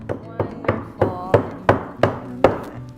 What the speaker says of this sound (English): can also take the hammer. The back of the hammer this is the de-stressing part